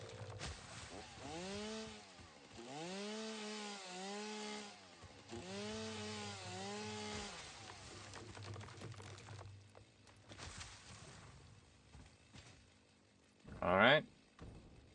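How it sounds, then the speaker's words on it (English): A chainsaw in the game Satisfactory whines in repeated rising-and-falling revving bursts through the first half, then settles to a lower buzz, with a sharp harsh burst near the end and a voice talking over parts. "Chainsaw Massacre."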